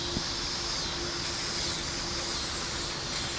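A steady, loud spray-can hiss lays a coat of paint on a Kyosho Mad Wagon VE RC body, continuous and close for the whole stretch, with no speech.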